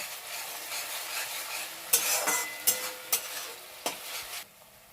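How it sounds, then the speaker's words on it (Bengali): Ginger and garlic paste is stirred in a frying pan with tomato, a soft steady sizzle broken by several sharp scrapes and knocks of the spoon against the pan. "এরপর আমি এটার মধ্যে আদা বাটা আর রসুন বাটা দিয়ে দেব। এরপর দিয়ে আমি এটাকে ভালো করে ঘেটে নেব।"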